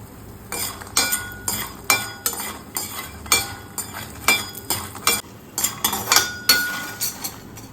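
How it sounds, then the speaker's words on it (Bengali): Lentil dumplings (bori) fry lightly in a pan, marked by a rhythmic series of sharp metallic clinks and scrapes as a spatula stirs them, over a low background sizzle. "বড়িটাকে হালকা করে একটু ভেজে নেব।"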